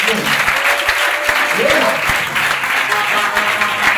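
A church congregation at a Sunday service applauds together, a loud, dense wash of clapping that runs the whole time, with voices calling out over it.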